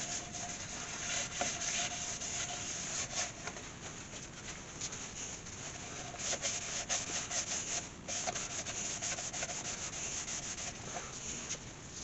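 Sanding sealer is worked onto a turned walnut bowl with a steady, continuous rubbing hiss, close and even, with faint rhythmic pulses running throughout.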